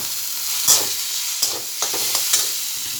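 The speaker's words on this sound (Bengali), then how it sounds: "এবারে ভেজে রাখা কয়েক গোটা আলু দিয়ে দিচ্ছি" Fried potatoes are stirred into a sizzling pan of pointed gourd with greens, giving a continuous hiss broken by a few sharp scraping clinks, close and loud.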